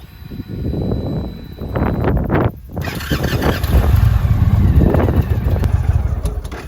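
An Indian Roadmaster motorcycle's Thunderstroke 111 engine is started and revs, rising and falling loudly up close before settling into a rough, throbbing idle while warming to operating temperature.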